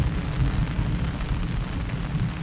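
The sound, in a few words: thunder rumbling during monsoon rain in Konkan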